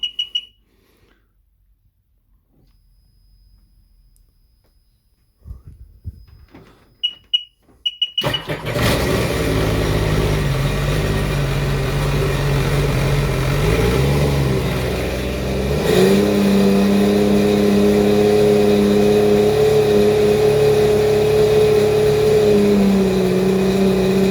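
A 2009 Sea-Doo GTX155 jet ski engine starts after a quiet stretch and then runs steadily near 4,000 RPM, a loud, sustained close-up drone with a slight dip and rise in pitch midway.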